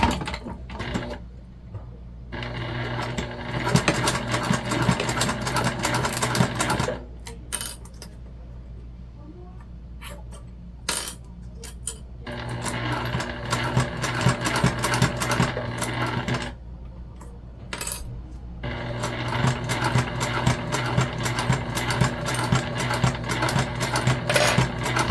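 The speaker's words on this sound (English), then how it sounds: "just going to sew down both sides of our D-ring connectors to secure them sort of into place." A sewing machine stitches down both sides of D-ring connectors at a 1/8 inch seam on a fabric wristlet pouch, running in long steady whirring bursts with brief pauses between runs, close and clear with no talk.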